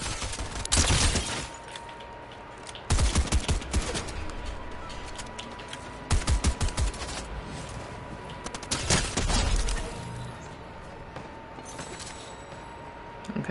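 Shotgun blasts in an online shooter video game, loud sharp reports arriving in irregular bursts, some rapid clusters of several shots, set against a constant background hum.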